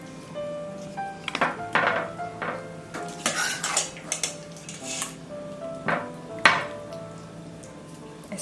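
Mastani chicken is served from the pot into a dish, with irregular clinks and clatters of a metal spoon against cookware and plates, several sharp knocks spaced over a quiet background.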